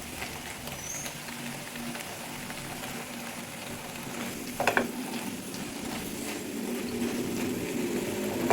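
Doddapatre leaves sauté in a pan, giving off water as they cook, with a quiet, even sizzle and one brief scrape of stirring partway through.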